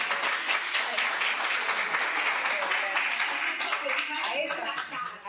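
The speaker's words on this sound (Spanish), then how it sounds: "La verdad que merece un aplauso" An audience claps at the close of a family medicine lecture, with steady applause from a room full of people and voices mixed in underneath.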